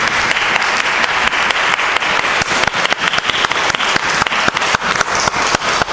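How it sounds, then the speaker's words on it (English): Audience applause at the close of a theology lecture on Franciscan theology and Bonaventure, a dense, steady wash of many hands clapping close and loud for the full six seconds, with no talk over it. "can we give you a round of applause?"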